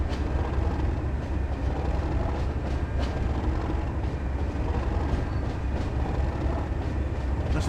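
Simulated pair of British Rail classic diesel locomotives hauling on the Tees Valley Line, a steady, loud engine rumble and rolling rail noise with faint rhythmic clatter, continuous throughout with no voices.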